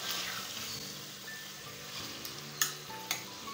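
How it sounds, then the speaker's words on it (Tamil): Mutton pieces sauté in hot oil for a field bean mutton curry, giving a steady close sizzle with stirring scrapes and a couple of sharper clinks near the end. "அது வரைக்கும் இது எண்ணெயில் வதக்கணும்"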